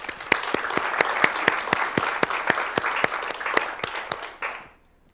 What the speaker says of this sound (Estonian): aga teeme suure aplausi